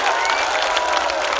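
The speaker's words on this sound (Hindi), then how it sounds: "अगर आपकी तालियां उठ जाएं" Audience applause at a Hindi kavi sammelan poetry recital, a dense, steady wash of many hands clapping together, loud and continuous throughout with no voices standing out.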